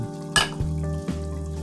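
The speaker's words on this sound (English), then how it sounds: "we're going to mix that up" A pot of Puerto Rican chicken stew with sazon, tomato sauce and added water sizzles steadily while being stirred. A spoon scrapes and knocks against the pot a few times over a constant close frying hiss.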